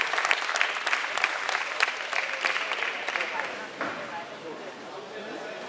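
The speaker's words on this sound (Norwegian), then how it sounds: "applaus." An audience at a men's fitness bodybuilding competition applauds steadily, a dense patter of many hands clapping that gradually thins and softens toward the end.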